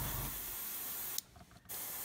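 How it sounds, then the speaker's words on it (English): Paint hisses steadily from an airbrush onto a 1/35 Meng Mk.A Whippet model tank, close and even, then stops sharply for a brief pause before the spray resumes. "I've got to try and get an airbrush in and spray so you can see what I'm doing"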